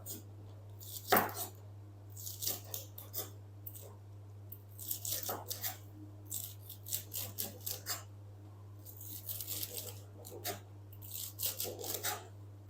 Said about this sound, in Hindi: यहाँ पर मैंने साग ले लिया है और अब हम इसकी कटिंग कर लेंगे